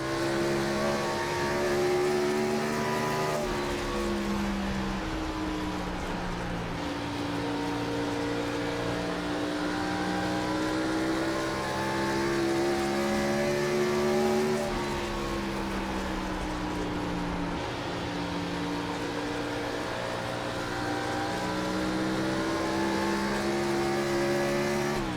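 A NASCAR Gen 4 Cup car laps Iowa Speedway in the iRacing simulator, its engine droning steadily close up, pitch rising and falling through the turns and straights, with no talking.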